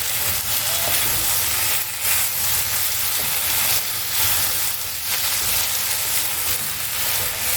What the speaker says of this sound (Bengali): আর একটু ভাজা ভাজা করবো।